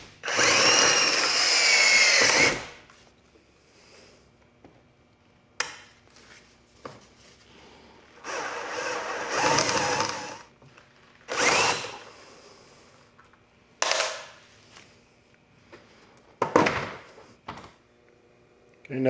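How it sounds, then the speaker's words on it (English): Bursts of a power drill whining at high speed drilling out rivets on a Can-Am Maverick UTV hood bracket, several short runs separated by pauses and clicks, close by with no talking. "drill out the two rivets holding the mounting bracket to the center section of the hood"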